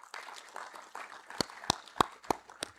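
Sparse clapping from a small audience at an aviation stakeholders' breakfast in Uganda, a few scattered soft claps followed by several loud, distinct individual claps close by.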